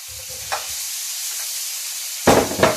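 Paneer cubes drop into a pan of hot spinach and supergreens curry, setting off a sudden loud burst of sizzling and spluttering near the end after a quiet stretch with faint stirring.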